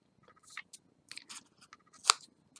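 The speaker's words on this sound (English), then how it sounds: "we are going to do a little snip off from each corner" Large scissors snip the corners off a cardboard food container, giving a few faint, crisp clicks and cuts with one sharper snip near the end, all close and quiet.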